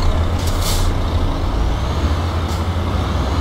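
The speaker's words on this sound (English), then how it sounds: "my truck just died." Heavy truck in Euro Truck Simulator 2 losing all power: a loud, constant engine drone and road rumble with brief hissing air-brake bursts, with no voices.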